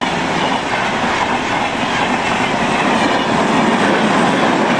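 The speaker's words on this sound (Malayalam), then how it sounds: "ഇതിനിടെ മയ്യനാട് ഭാഗത്തേക്കുള്ള ട്രെയിനുമെത്തി" A train pulls up to the Koottikkada railway level crossing, heading toward Mayyanad, with steady loud rumble and rolling wheel clatter filling the whole stretch, close by and continuous with no talk.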